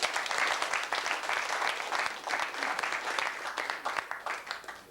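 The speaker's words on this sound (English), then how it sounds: "can we please give another round of applause?" Sustained round of applause from a distinguished audience at an academic celebration in Lagos, a continuous rapid clatter of many hands heard from some distance, fairly even throughout with no talk over it.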